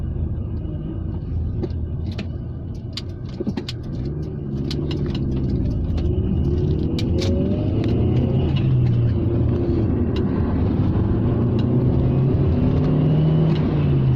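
A Rover 600ti turbo car accelerates steadily from a standstill, its engine note rising in pitch through the gears as a constant cabin rumble builds, heard from inside with no talking.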